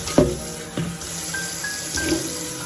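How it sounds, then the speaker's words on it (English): Water runs from a kitchen tap to fill for tea, a steady splashing stream with a few clunks of a kettle or container, close and alone without talk. "So I have to fill the water."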